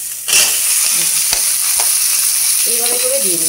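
Mixed vegetables drop into hot oil seasoned with five-spice and green chilli, starting a loud, steady sizzle with a few stirring clinks, while someone speaks briefly near the end.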